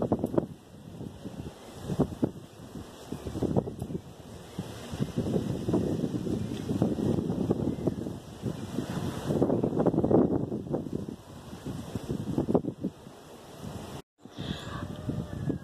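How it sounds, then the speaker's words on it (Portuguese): Strong wind buffets the microphone outdoors in a steady, roaring gust that swells and eases over about fifteen seconds, loud and continuous, with a brief dropout near the end. "Tá vendo o vento? Tá muito forte."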